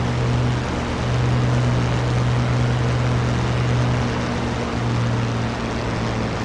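Constant loud drone of a propeller aircraft engine in a flight simulator game, running steadily with no pauses and no other sounds.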